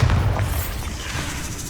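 A Bombarda spell blast in the video game Hogwarts Legacy, a loud booming explosion with a deep low thump at the start that rolls into a long rumbling roar.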